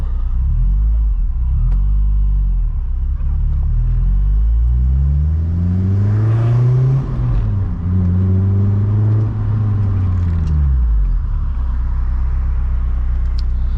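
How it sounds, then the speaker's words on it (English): Supercharged 2006 Honda S2000 AP2 making about 450 wheel horsepower, a Science of Speed supercharger, pulls through several loud, close revving sweeps from inside the car, with faint belt whine riding over the engine note and no talk. "The Supercharger isn't too loud. The Science of Speed one is pretty quiet compared to like a Kraftwerks, but you can hear a little bit of like belt whine"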